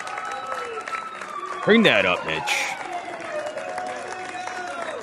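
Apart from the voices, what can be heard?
crowd applauding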